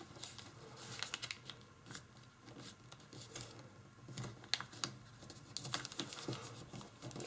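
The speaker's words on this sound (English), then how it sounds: "Fold down and make strong creases because there are multiple layers of paper here." Origami paper being folded and creased into a Christmas compass rose, soft crinkling and pressing scrapes in quick irregular bursts, close but faint, with no talking.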